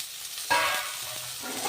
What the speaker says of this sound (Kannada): ಇದಕ್ಕೂ ಒಂದು ಸ್ವಲ್ಪ ಎಣ್ಣೆ ಹಾಕೊಂಡು ಟೊಮೊಟೊ ಇಷ್ಟು ಹುರ್ಕೊಳ್ಳೋಣ